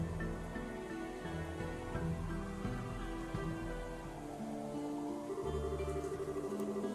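Soft, steady rain falls in the game Trails in the Sky 3rd, a faint patter spread evenly throughout. Quiet background music plays beneath it.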